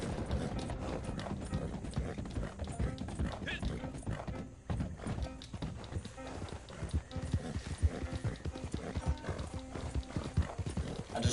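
Rhythmic clip-clop of horse hooves trotting steadily in the video game Red Dead Online, close and continuous, with an occasional whinny and some mechanical clicking in the mix.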